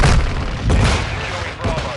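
A Semtex grenade blast in Call of Duty Modern Warfare II: a heavy, low booming explosion with rumbling gunfire-like bursts around it in a loud, busy match, with game voice callouts mixed in.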